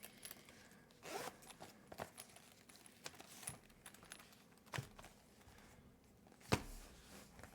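Zipper on a Schon DSGN pen case pouch being worked in short quiet rasps, a few quick pulls and clicks spread over several seconds with light handling noise between them.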